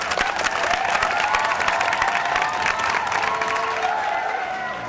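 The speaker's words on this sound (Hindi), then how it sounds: "और ठोको ताली कांजी भाई के लिए" An audience in a stage drama claps and cheers for a character, a loud, steady burst of many hands with voices mixed into the applause, holding strong for several seconds.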